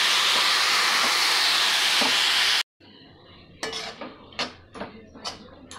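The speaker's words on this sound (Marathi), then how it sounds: "मिरची आणि शेंगदाणे छान तळत आले का त्यात आपण टाकून देऊया रताळ्याचा पीस।" Sweet potato pieces hit hot oil with frying peanuts and green chili, a loud continuous sizzle that cuts off, followed by a spoon scraping and clinking against the pan in scattered strokes.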